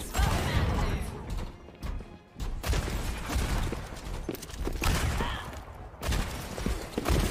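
Video game gunfire crackles in dense, rapid bursts with sharp impacts and brief gaps during a competitive match, loud and busy, with players talking over it.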